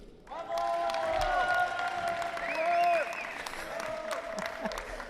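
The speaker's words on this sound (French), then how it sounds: "ce qui explique les applaudissements que vous venez d'entendre" Spectators at a neighbouring canne de combat area applaud, moderate clapping from a crowd in a hall, while a voice over a public address speaks over it throughout.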